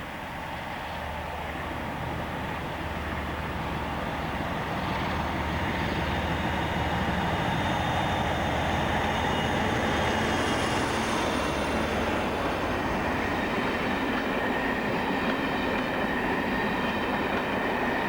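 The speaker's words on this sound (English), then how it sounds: "this is the Penzance to Manchester cross-country service" A Penzance to Manchester cross-country passenger train rolls past at steady loudness, a broad rumble with clattering wheels and a faint high squeal toward the middle, continuous for the whole stretch with no voices.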